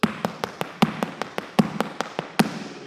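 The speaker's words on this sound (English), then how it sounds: "So without the drop heel, it would sound like this." Hard Irish dance shoes strike a floor in a bang treble step without the drop heel, a quick run of about a dozen sharp, crisp taps in a bouncy rhythm, with heavier accented bangs at intervals.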